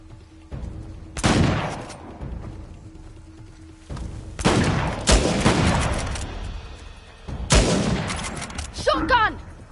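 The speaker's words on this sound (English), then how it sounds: "Shotgun, watch it!" Three loud bursts of shotgun fire ring out in Uncharted: The Lost Legacy, spaced a few seconds apart, each a sharp blast with a short rumbling tail, while voices shout in between.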